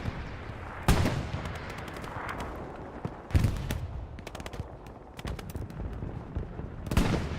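Gunfire in Hell Let Loose, a competitive 49v49 WWII console battle at Smolensk: scattered sharp rifle and machine-gun shots near and far, with a few louder close cracks over a constant battlefield rumble.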